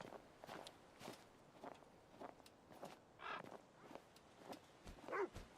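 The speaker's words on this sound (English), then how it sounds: "The doggy." Footsteps patter steadily in the video game The Killing Stone, with a dog's short bark or yip rising near the end, all fairly quiet and without talk.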